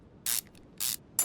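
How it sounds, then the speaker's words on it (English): Three short hissing bursts of WD-40 sprayed onto a carburetor in Car Mechanic Simulator 2021, each about a tenth of a second, close and crisp with brief pauses between. "Spray some WD-40 on there."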